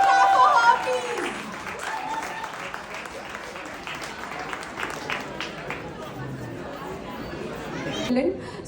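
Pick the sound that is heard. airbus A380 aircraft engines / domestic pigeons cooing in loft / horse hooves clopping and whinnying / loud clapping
loud clapping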